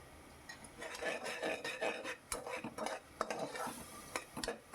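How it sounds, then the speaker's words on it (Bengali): A spoon scrapes and clinks around a pot as a chicken stew base is stirred with salt, with a faint sizzle beneath. Irregular taps and scrapes come in quick succession, close and fairly loud. "লবণটা দিয়ে আবার ভালো করে আমি একটু নাড়ি চাড়িয়ে নিচ্ছি"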